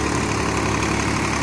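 A new Swaraj 735 tractor of 35 to 40 HP fitted with a heavy-duty rotavator runs close by, its diesel engine giving a loud, continuous rumbling drone throughout.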